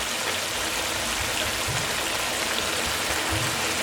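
Half a cup of oil going into mutton that has nearly cooked dry in the pan for bhuna gosht, giving a steady, loud, broadband sizzle with a few low bumps, no voices.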